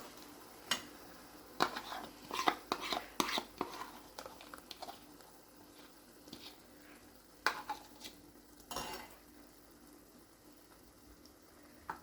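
Crushed tomato gravy stirred into browned onions in a pan for ringan nu bharthu, with irregular spoon scrapes and clinks over a soft sizzle, some strokes sharper and louder, with quieter stretches between.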